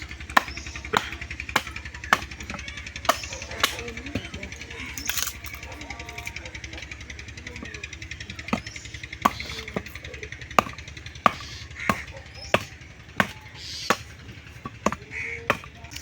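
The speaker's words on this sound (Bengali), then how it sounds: "এখন মা গেছে কাঠ কাটার জন্য সেই বাস মানে একটা বাস কাটছে" A woman chops bamboo for firewood outdoors in cold weather, each blow a sharp, crisp crack, repeated at an uneven, steady pace of roughly one strike per second with a few short pauses, over a quiet background.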